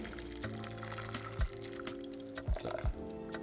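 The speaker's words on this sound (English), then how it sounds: "once the kettle is ready, we're going to pour the water over all of the tea" Hot water from a kettle pours over loose tea in a brewing vessel for homemade kombucha, a steady near liquid stream with a few sharper splashes and drips, no talking.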